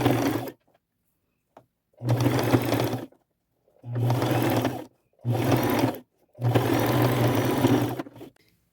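A sewing machine runs a straight stitch along a thrifted jacket in several close, loud whirring bursts of one to two seconds, separated by short pauses, with no talking.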